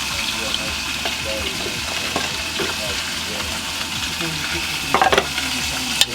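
Food frying in a pan as Seu Pedro cooks in a home kitchen in the Brazilian Amazon, a steady close sizzle with scattered clinks and stirring scrapes and a brief louder burst of clatter near the end.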